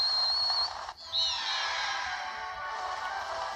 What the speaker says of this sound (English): We're gonna skip this cutscene and immediately whistle.